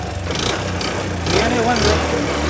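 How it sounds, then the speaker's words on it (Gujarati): A motorcycle with a faulty light idles nearby with a low, steady putter, rising slightly partway through, while a person talks over it. "બાઇક પણ સ્ટાર્ટ થઈ ગયું."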